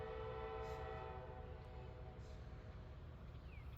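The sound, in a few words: train passing through downtown Greenville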